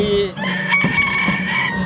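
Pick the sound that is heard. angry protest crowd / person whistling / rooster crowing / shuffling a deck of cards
rooster crowing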